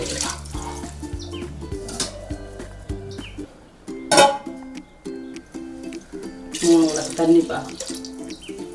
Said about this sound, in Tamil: தண்ணி சேர்த்துட்டு இதில் 3 கப்பு தேங்காய் பால் ஊற்றிருக்கு